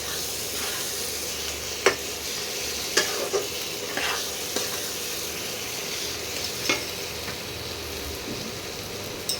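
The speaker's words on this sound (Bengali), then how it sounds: "এবারে শুকনো মশলাটাকে ভালো করে কষিয়ে নিতে হবে যতক্ষণ না তেলটা ছাড়ে" Dry ground spices, including Kashmiri chili powder, fry in oil for a spicy chicken curry, a continuous loud sizzle punctuated by occasional sharp clinks and scrapes of a spatula against the pan.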